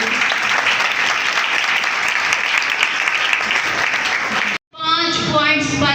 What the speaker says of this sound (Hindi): एक बार उनके लिए भी तालियां बजा लीजिए